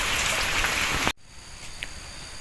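Rain pours steadily onto chili plants of the Genie variety, a dense close hiss that cuts off abruptly, leaving faint drips and quiet ambience.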